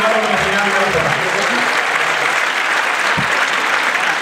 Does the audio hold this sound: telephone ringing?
no